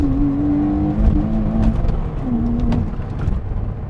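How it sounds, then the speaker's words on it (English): From inside, a track-modified 2009 Porsche Cayman 987.2 with a six-speed manual pulls hard at full throttle in second gear. The engine note climbs loudly and continuously, with no talk over it. "All right, 2nd gear, full throttle."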